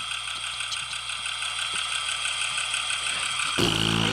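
Idling engine of a '93 Lincoln Continental with a quick, light ticking from the lifters running through a steady hum, then a sudden louder burst near the end.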